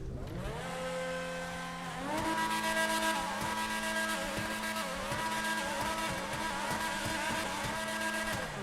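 Progen Tyrus race car in GTA Online, modelled on a McLaren F1 GTR Longtail, its engine climbing and shifting through gears in a steady loud drone, rising pitch sweeps marking each upshift, with no talking.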